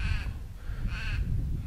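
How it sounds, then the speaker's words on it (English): Crows cawing outdoors near a hut on a mild day, two clear harsh caws spaced about a second apart over a low steady background rumble. "Just me and the crows here,"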